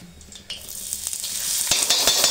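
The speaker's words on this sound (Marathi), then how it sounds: "भाकरीच्या तव्यातच फोडणी टाकणार आहे" Chopped onions hit hot oil in a tempering on a bhakri griddle, a close sizzle that swells and grows louder with crackling, no voices.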